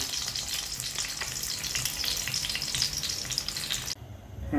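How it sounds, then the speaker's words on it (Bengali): Eggs fry in oil in a wok, giving a steady close sizzle with occasional crackles for about four seconds before the sound cuts away abruptly. "এখন একটা কড়াইতে আমি কিছু তেল দিয়ে ডিমগুলোকে একটু ভেজে নেব।"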